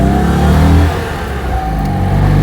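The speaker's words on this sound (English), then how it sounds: "I still don't really know how much of this engine noise is knackered crankshaft and how much is because it's got a race cam in it." A Citroen 2CV flat-twin engine with a race cam and a worn crankshaft revs loudly and close by, easing off briefly mid-way before picking up again, with a steady mid-pitched drone throughout.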